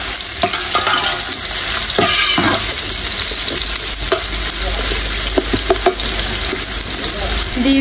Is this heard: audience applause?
no